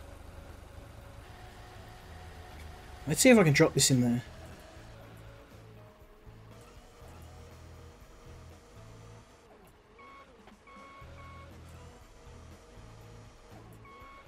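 A truck idles with a low, steady engine hum in a brewery business simulation game, while a voice talks over it; a loud clattering burst cuts in briefly, and later a series of short, evenly spaced electronic beeps repeats.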